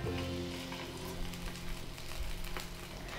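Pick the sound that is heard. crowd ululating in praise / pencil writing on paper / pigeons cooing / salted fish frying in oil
salted fish frying in oil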